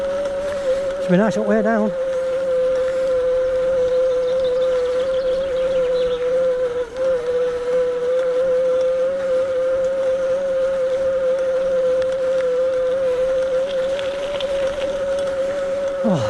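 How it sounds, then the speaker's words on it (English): An electric bike motor strains uphill with a steady, loud whine that holds one pitch throughout under rushing wind, while a rider talks briefly near the start. "listen it pull on that motor now"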